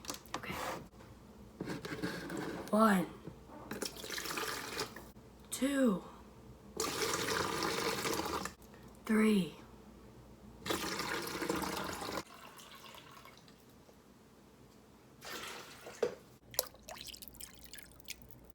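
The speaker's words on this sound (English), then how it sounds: "we're gonna just keep taking cups of water and putting it in here and counting" Cups of water poured one after another into a Brita filter pitcher indoors, each pour a short splashing gush separated by pauses, with a voice counting between pours.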